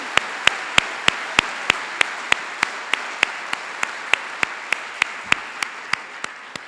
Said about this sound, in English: Let's give Professor Zuber one more round of applause